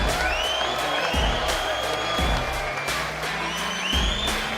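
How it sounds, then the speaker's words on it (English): Arena crowd at the Mosconi Cup pool event applauding and cheering for Team Europe and Team USA, a loud sustained wash of clapping and whoops with bursts of shouting over it. "let's have a round of applause for both teams"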